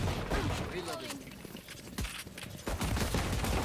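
Gunfire in the tactical shooter game Valorant, with rapid bursts of shots and sharp cracks coming in clusters over game sounds, while a voice talks over the action.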